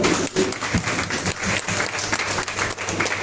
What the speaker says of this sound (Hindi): आइए प्रभु के लिए ताली बजाएंगे जोरदार।